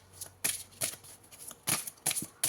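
Tarot cards are shuffled up close in several quick riffling bursts separated by short pauses, with no talking.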